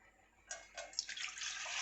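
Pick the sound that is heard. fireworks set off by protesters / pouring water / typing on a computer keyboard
pouring water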